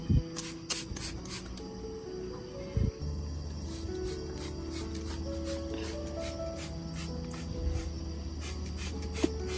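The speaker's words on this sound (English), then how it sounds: "I put the mixture into a spray bottle and evenly misted it over all the leaves of the orchid" Repeated short hissing bursts of a spray bottle misting a solution over orchid leaves, irregularly spaced and close by, over a faint low hum.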